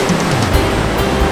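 Rushing water of the Niagara River near the American Falls in winter, a brief, loud, broadband roar that stays steady and unbroken, with no talking.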